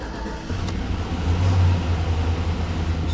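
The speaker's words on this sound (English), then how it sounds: "So this is the first time starting." A 2000-06 Chevy Tahoe engine starting for the first time after an oil pump replacement, settling into a steady low rumbling idle up close, with a short louder surge partway through and no talking.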